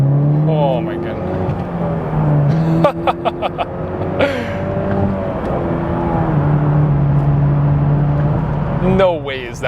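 A modified 2019 Chevrolet Camaro's engine roars loudly from close by, its pitch rising and falling as it revs, with sharp bursts in between and muffled voices underneath.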